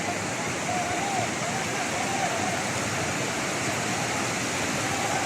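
A river swollen by a landslide in Wayanad, Kerala rushes in a loud, continuous roar of churning water that stays steady and close throughout, with faint voices beneath.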